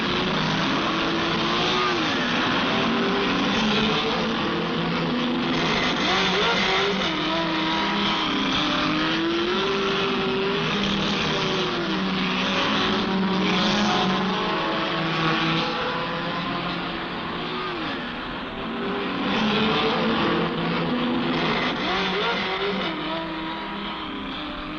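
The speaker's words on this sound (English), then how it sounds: "Chris Amons first away in the Ford 7-litre, followed by Bob Bondurant, Bruce McLaren and Surtees." Ford GT race cars, including a 7-litre Ford, roaring off at the 1965 Le Mans 24 Hours alongside Ferraris and a Cobra: a loud, sustained blend of revving engines with rising and falling pitch, plus a voice talking over it.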